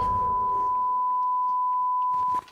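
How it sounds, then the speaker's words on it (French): A steady hospital-like electronic beep in a video game, one long unbroken tone held for over two seconds, fairly quiet, ending with a short burst of noise. "Alors ça, c'est un bruit d'hôpital"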